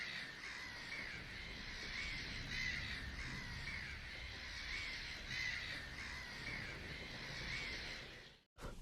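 Crows or ravens caw and squawk in a dim setting, heard as a continuous, somewhat distant harsh chorus over background noise, fairly faint and unbroken until a brief cutout at the end.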